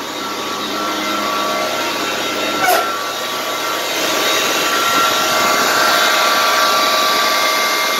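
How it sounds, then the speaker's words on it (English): A one-ton truck's alternator and three electric motors idle together in neutral, giving a steady, loud whir and hum with a brief click near the start and no talk. "Now the alternator is spinning, the electric motors are running, and all 3 of them are running together as one motor."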